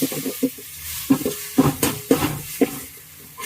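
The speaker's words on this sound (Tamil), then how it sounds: "நல்லா வதக்கி விட்டுக்குவோம்." Ginger garlic paste sautés in a pan for a cauliflower kurma, with soft sizzling broken by a steady run of spoon stirs and scrapes, close and fairly quiet, no voices.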